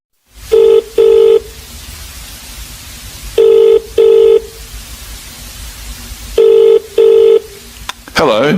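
A telephone ringing in three double-ring bursts with pauses over faint line hiss, then a click as the call is picked up, on a call from a man who is lost on his way to a party.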